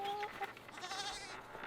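Goats bleat on a farm in the rain, short wavering calls heard fairly faintly at a distance.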